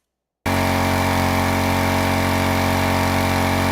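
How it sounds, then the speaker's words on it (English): Heavy engine sound effect from a video game, a loud, steady droning hum that starts abruptly after a moment of silence and holds evenly without talk. "So for example, if we go here, we have engine heavy louder."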